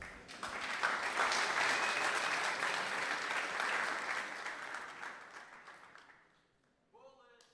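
Audience applause after a talk at a Paris blockchain summit, a broad wash of clapping from a large room that swells, holds for several seconds, then fades out, with a voice starting to speak at the end.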